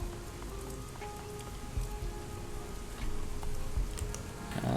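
Rain falls in the video game Shadowrun Hong Kong on a neon-lit night street, a steady hissing patter of drops with small ticks and a few louder splashes, alone and fairly soft.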